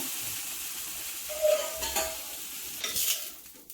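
A jowar dosa is turned over on a hot pan, with a soft sizzle, a few light scraping and clinking touches of a spatula, and brief brighter bursts as it is flipped.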